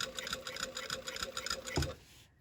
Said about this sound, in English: we're going to sew right along that sewn line.